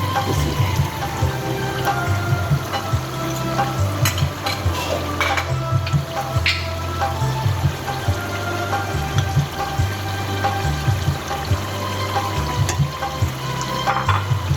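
Mutton frying in a pan with whisked yogurt gives a continuous loud bubbling sizzle, with stirring scrapes and clatter throughout and a low hum underneath.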